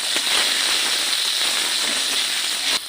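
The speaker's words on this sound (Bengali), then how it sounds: "এখন এর মধ্যে সামান্য পরিমাণ হলুদ, লবণ দিয়ে ভালো করে নেড়ে চেড়ে এটাকে একটু লাল লাল করে ভেজে নিতে হবে" Turmeric and salt fry in a pan of oil, a steady dense sizzle and hiss holding at even loudness throughout, close and with no voices.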